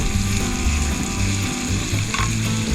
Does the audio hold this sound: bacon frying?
yes